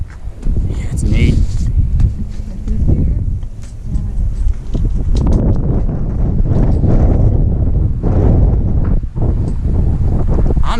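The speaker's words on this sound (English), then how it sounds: "the wind is a chooching" Strong wind gusting outdoors in the Dolly Sods Wilderness, buffeting the microphone with a steady low roar that swells and eases throughout, while people talk over it.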